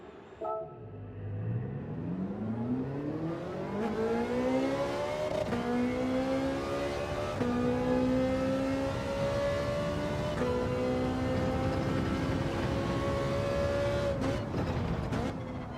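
A Ferrari in a racing video game revs up from idle, its engine note climbing in smooth harmonic sweeps and then holding a steady, loud drone through upshifts for about fifteen seconds, with no talk over it.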